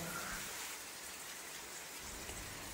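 Heavy morning rain comes down as a soft, even hiss, steady and somewhat distant throughout with no talking.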